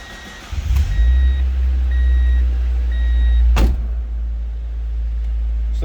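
A 1999 Mazda MX-5 Miata started cold: the engine catches with a low rumble and settles into a steady idle, while periodic chime beeps sound from the cabin and a sharp clunk lands partway through.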